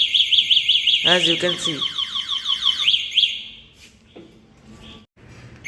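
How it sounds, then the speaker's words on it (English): An Epluto 7G electric scooter's anti-theft alarm blares loud, rapid repeating electronic chirps and a warbling siren, then cuts off, with someone speaking briefly afterward. "If anyone touches or moves the scooty, it will sound like alarm"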